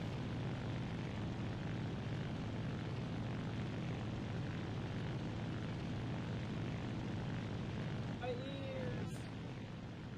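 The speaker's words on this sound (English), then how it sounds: "Have you ever heard a propeller prop plane? Especially the turbo engines." Steady, droning turboprop aircraft engine in a tank video game, a constant propeller roar filling the whole stretch at moderate level, with a brief faint whistling chirp near the end.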